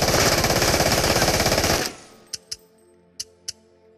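A PPSh submachine gun in the VR shooter Into the Radius fires a loud, rapid full-auto burst for about two seconds. It stops abruptly, followed by four sharp metallic clicks and clacks of handling.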